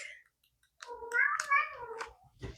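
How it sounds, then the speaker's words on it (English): A pet cat meowing close by, one long drawn-out wavering meow followed by a shorter call, with quiet clicks between. "my kitty cat is here"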